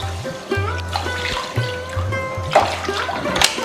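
Water poured into a pan of sugar for a rasmalai syrup, a trickling, splashing flow close by with clinks and low hum from the kitchen in the background.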